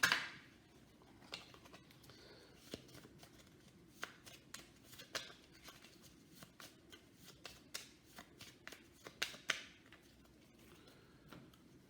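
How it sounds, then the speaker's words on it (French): A deck of game cards is shuffled by hand up close, with quiet riffles and a run of soft flicks and taps repeating irregularly over about twelve seconds. "on remélange, on se prend une carte rencontre supplémentaire."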